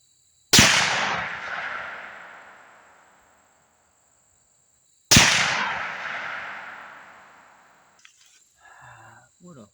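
Two loud rifle shots from a stalking rifle at an outdoor shooting range, several seconds apart, each a sharp crack with a long decaying echo, followed by faint brief sounds near the end.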